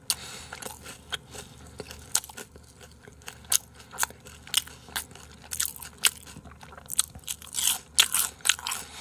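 Crispy fried squid and shrimp bitten and chewed up close, with sharp crunches and crackles repeating irregularly across the clip, growing denser and louder toward the end.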